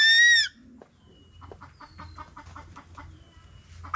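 Pet chicks cluck and peep softly in short repeated bursts, faint and close, after a brief loud high squawk at the start.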